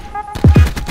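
Two sharp, booming shots from an ICR-7 assault rifle in Black Ops 4 ring out in quick succession, close and loud, each with a short decaying tail.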